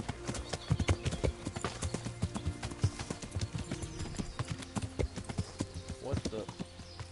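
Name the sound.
horse hooves clip-clopping while riding in Kingdom Come: Deliverance video game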